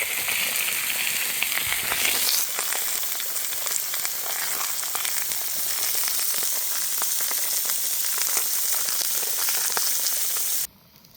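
Food sizzles and crackles steadily on a hot stone at a camp cookout, a dense close frying hiss that runs unbroken for about ten seconds before cutting off abruptly near the end.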